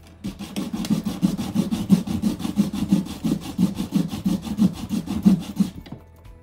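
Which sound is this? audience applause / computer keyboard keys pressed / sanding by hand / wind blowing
sanding by hand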